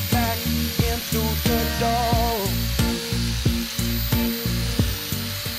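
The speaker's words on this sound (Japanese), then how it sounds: "周りをマーキングして切っていきましょうか" Power cutting tool working around a marked outline on a custom part for a Nautilus-style Honda Dax build, a steady harsh whine broken by repeated rhythmic bites into the material, close and loud with no talk.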